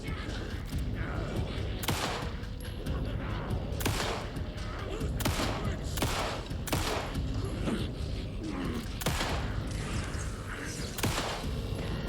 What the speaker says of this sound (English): Flashbang upon ye.